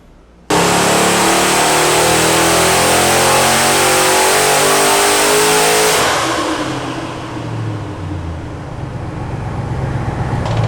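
Turbocharged 427 cubic-inch LS V8 with an intercooler, making 14.7 psi of boost on a full pull: a loud, sustained engine roar for about five and a half seconds, then it drops off into a lower rumble.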